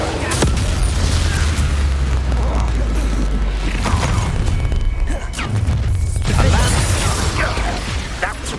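Spell blasts from the Bombarda explosion charm in Hogwarts Legacy, a loud, dense, continuous rumble of booms and crashes with deep low-end weight, continuing through the whole stretch amid game effects and voices.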